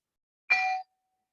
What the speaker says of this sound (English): Oh, the bell.